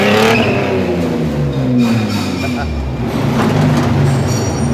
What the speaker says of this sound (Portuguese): Tá com ronco de caminhão aí.